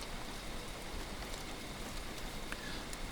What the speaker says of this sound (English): I could still hear the wind howling outside and the rain tapping on the glass